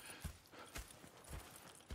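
Horse hooves clip-clop in Red Dead Redemption 2, a few soft, irregular thuds of a horse walking slowly, faint and fairly close with no talk over them.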